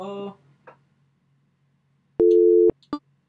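A telephone busy signal during a 911 call in the video game Simulacra: a short electronic tone burst heard up close and clearly, following a brief spoken phrase and a few soft clicks.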